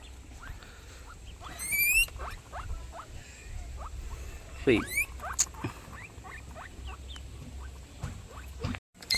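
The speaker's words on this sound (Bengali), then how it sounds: "দুটো গিনিপিগ নিয়ে এসেছে আমাদের বাড়িতে কত সুন্দর তাদের গায়ের কালার দেখো তাদের আওয়াজগুলো দেখেছো" Two guinea pigs squeak and chirp nearby, with rapid high rising whistles in short bursts and softer scattered squeaks and rustling in between over a quiet room background.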